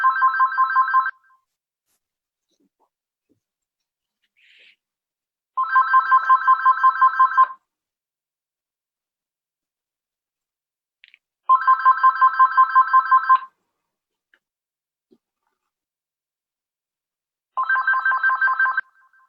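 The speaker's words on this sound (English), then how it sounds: "ignore that phone." A mobile phone ringtone repeats four times at regular intervals, each burst a rapid pulsing trill lasting about two seconds, clear and alone against near silence.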